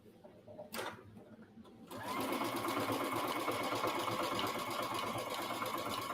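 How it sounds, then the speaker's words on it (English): A sewing machine starts up and stitches steadily along the sides and angled bottom edge of a cross-body bag, running close and continuous after a short quiet lead-in with a brief handling noise. "But what I really wanted to sew is the two sides and this bottom angled edge."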